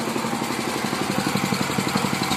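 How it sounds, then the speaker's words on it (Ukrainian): A small generator hooked up to a homemade vacuum seeder for a DTZ 570 walk-behind tractor, running with a steady, pulsing mid-pitched engine hum close by, alone without talk. "Підключив генератор."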